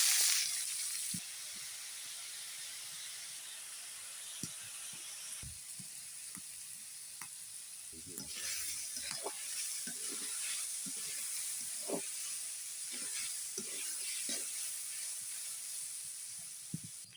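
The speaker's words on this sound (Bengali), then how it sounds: "এই কড়াইতে চাল কুমড়া ভেজে নেব" Ash gourd frying in a wok with cumin and bay leaf, giving a steady hiss and sizzle throughout, with scattered soft clicks and stirring knocks close by; no talking.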